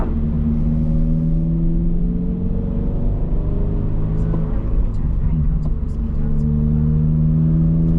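Loud Subaru BRZ engine droning from inside the car while driving, a steady low rumble with rising and falling tones as the engine pulls, with faint clicks and no voices.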